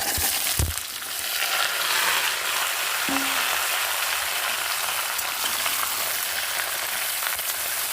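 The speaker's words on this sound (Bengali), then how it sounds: "সবজিটা একটু ভালো করে কষিয়ে নেব" Mixed vegetables sauté in hot oil with panch phoron for a Bengali vegetarian curry. There is a continuous loud sizzle, with a stirring clatter near the start and a brief clink partway through.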